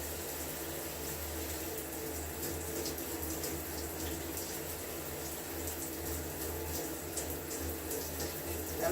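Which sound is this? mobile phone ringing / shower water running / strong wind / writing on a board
shower water running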